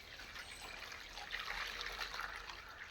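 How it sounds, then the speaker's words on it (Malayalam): A litre of water pours into a 1.5-litre pot, a steady trickling, splashing stream that swells slightly midway and carries on without pause. "1 ലിറ്റർ വെള്ളം ഒഴിക്കുക."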